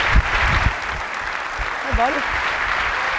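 Keynote audience in a large hall applauding and cheering steadily throughout, with someone speaking briefly over the crowd noise.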